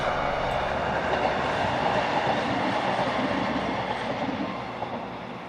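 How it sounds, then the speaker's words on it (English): An hourly ScotRail shuttle train approaching Gretna on its way to Dumfries, heard as a steady rumble of wheels and engine that holds level and then eases slightly toward the end, with no talk. "ScotRail's hourly shuttle approaches on its way to Dumfries."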